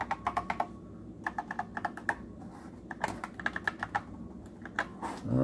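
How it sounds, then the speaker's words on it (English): Clicky keys being typed on a 1984 NABU Personal Computer keyboard, close up, in irregular bursts of quick keystrokes with short pauses between runs. "Keys themselves, oh, nice, very good feel to them. Even the caps has a little click to it for the caps lock."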